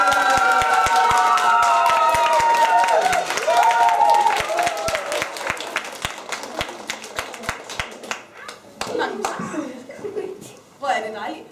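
Audience clapping at the opening of a children's library in Gråsten, a dense burst of many hands near and loud at first, then thinning to scattered claps with voices and crowd murmur coming through.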